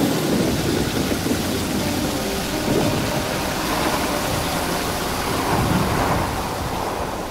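Steady pouring rain, a dense continuous hiss with a low rumbling undertone, loud and even for the whole stretch with no voices, as in a German radio play where two friends park outside a half-ruined country house.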